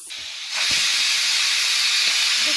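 A pressure cooker on a gas flame, cooking usal, lets out a loud, sustained hiss of escaping steam that rises abruptly after a moment and holds steady to the end.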